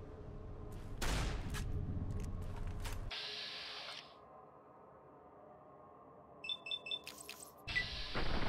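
Gunshots in Fallout New Vegas ring out as a faint burst of sharp reports, followed by quieter game tones and a few quick electronic blips.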